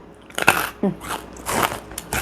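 Crunchy Indonesian basreng snack is bitten and chewed close up, giving several crisp crackling crunches in irregular bursts, with a person talking between the bites.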